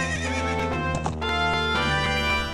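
Link's horse in the video game The Legend of Zelda: Ocarina of Time gives a loud, drawn-out neigh and whinny with hoof clip-clops, layered over steady background music.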